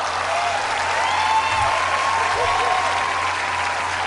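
A boy's brother claps during a kids' body-language moment, a brisk run of hand claps blending into applause-like patter with voices murmuring underneath throughout.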